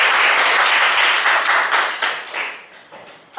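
An audience at a speakers' forum meeting claps together for a few seconds. The dense applause is loud at first, then thins out and fades.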